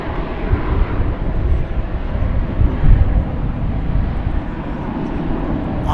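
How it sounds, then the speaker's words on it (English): A Qatar Airways Airbus A350-1000 passes by at an airport with a loud, steady jet roar that swells slightly mid-pass, mixed with wind rumble. "finally I'm getting another clear shot of the Qatar A350-1000"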